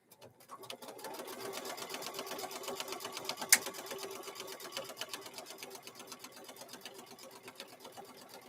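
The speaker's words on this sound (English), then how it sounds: "now let's go ahead and sew this across here" A sewing machine stitching across pre-quilted fabric for a microwave bowl koozie, a fast, even mechanical rattle running steadily at close range after a brief start, fairly quiet overall.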